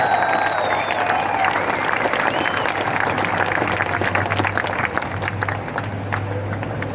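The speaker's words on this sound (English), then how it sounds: "Round of applause for everyone in this crowd." A crowd at a protest march in Sydney applauds steadily, many hands clapping in a dense, continuous wash, with a faint low hum underneath.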